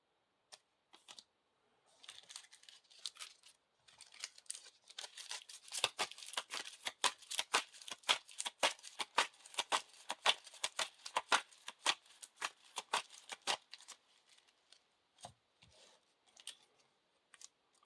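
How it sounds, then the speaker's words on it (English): Playing cards for a Lord of the Rings living card game are shuffled up close, giving rapid bursts of crisp riffling clicks that build and then taper off, alone and fairly quiet. "shuffle the encounter discard pile into the encounter deck"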